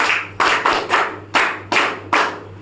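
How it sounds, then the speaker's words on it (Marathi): Rhythmic clapping from a small group thanking visiting guests who came to hand out kits, about seven distinct, evenly spaced claps, close and crisp with no talking over them. "त्यांचे एकदा परत टाळ्या वाजून आभार सुद्धा मानायचे आहेत."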